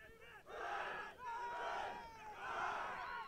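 A large, vocal crowd at a university varsity sports event roars and chants in three surging waves after a Staff Stallions victory, loud and sustained with rhythmic shouting.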